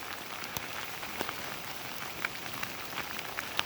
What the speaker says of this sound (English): The rain does continue to come down.